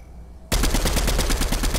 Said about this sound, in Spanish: Vean desde dónde me disparan los enfermos esos